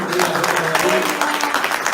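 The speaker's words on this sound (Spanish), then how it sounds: "Antonio Llamas, un aplauso de ahí," An audience at a labor law congress (FOFETRA, CPACF) breaks into dense, steady applause filling the room, with a voice talking over the clapping.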